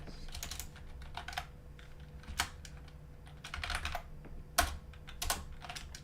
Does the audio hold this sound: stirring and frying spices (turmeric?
no